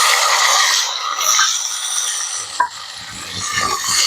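Tomatoes go into hot oil tempered with curry leaves, green chilies, ginger and garlic, raising a loud, close hiss of sizzling, then a spoon stirs and scrapes through the pan.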